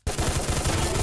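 Gunfire in a shooter video game erupts suddenly after a short silence: a loud, rapid burst of automatic shots, close and dense, rattling on without pause.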